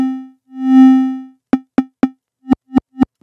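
A synth tone is pushed through a heavy distortion effect at 100% mix: two sustained buzzing notes, then a run of short, sharp distorted stabs, dry and alone.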